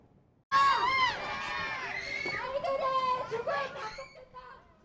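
Protesters holding placards shout outside a courthouse as a prisoner transport van arrives. A loud crowd of overlapping raised voices bursts in suddenly and keeps going without a break.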